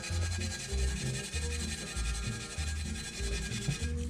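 A Scotch-Brite pad scrubbing stubborn wheel-weight residue off a Weds Sport TC05 alloy wheel, a close, loud rhythmic rubbing in quick back-and-forth strokes, about a dozen passes.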